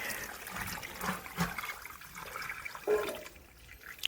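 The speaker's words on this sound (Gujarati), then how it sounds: "ચાલો આપણો વારો આવી ગયો છે પાણી નાખવાનો ફૂલઝાડમાં" Water splashes and trickles onto flowering garden plants in a village yard, an uneven run of pours and spatters at close range with no talk over it.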